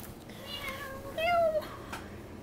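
Domestic cat giving a single clear meow, fairly close and moderately loud, after a softer rising call, against a quiet room background.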